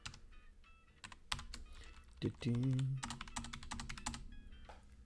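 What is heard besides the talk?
typing a code on a computer keyboard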